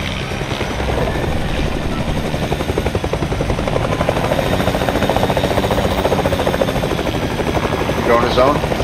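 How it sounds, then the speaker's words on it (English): A Fortnite helicopter's rotor gives a loud, steady thrumming beat throughout, with players talking over it. "I'm going to the chopper."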